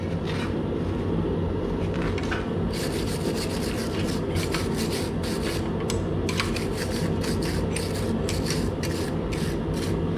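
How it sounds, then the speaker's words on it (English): Wire brush scrubbing a hot forged steel S hook, a continuous harsh rasping with rhythmic bristle strokes, loud and close with no talk. "Now a little bit of wire brushing."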